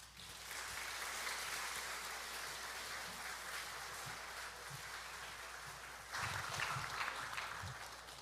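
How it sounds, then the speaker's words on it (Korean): A church congregation claps during Sunday worship announcements, a faint, even wash of applause with low thumps and a swell in the final seconds. "그러면 이제 박수로 한번 청해 드릴까요?"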